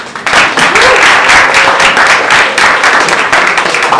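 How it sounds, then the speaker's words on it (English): An audience at a Sustainability Drinks gathering in Bangalore gives the speakers a loud, continuous round of applause, dense clapping that stays strong for the whole clip. "Can we have a big round of applause for all our speakers, please?"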